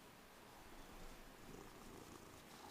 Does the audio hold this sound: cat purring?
yes